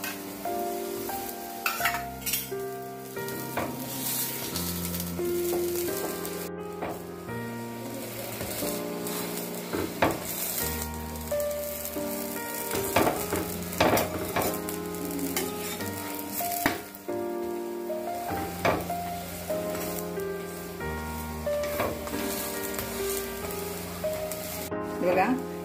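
Puran poli cooks on an iron griddle as ghee is drizzled around its edge, giving a steady soft sizzle and crackle with occasional scraping and turning sounds, close and continuous.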